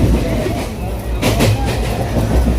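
A passenger train runs along the rails with a steady, loud rumble and rhythmic clatter of the wheels throughout, close and continuous, with a brief surge partway through.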